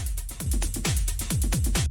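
Rave techno drum loop with a pounding four-on-the-floor kick, each hit a booming downward thud, under clattering hats and percussion, with drum bus processing switched off and on midway so the punch and glue change, ending abruptly.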